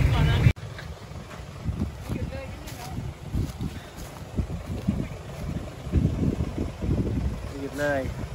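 A small walk-behind tractor engine drones steadily at a canal-side garden plot, its low rumble continuous throughout with wind buffeting the microphone and voices talking over it.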